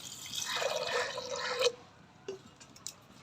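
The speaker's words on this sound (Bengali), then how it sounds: "এই প্রেসার কুকারের মধ্যে এই সিমের দানাগুলোকে দিয়ে দেবো, আর দিয়ে দেবো পরিমাণ মতন জল।" Water pours into a pressure cooker holding bean seeds, a close, bright splashing stream for about a second and a half that cuts off, followed by a few faint drips and clinks.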